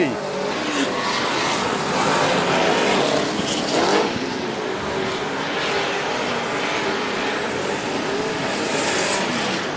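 Speedway race cars tear around a dirt track in a B main heat, with a dense, continuous engine roar and tire noise throughout and a commentator talking over it.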